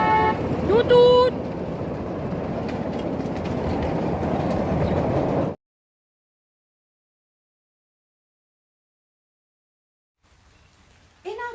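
A train sound effect with a tooting whistle, brief whistle toots at the start over a steady rumbling rolling clatter that cuts off abruptly, followed by silence.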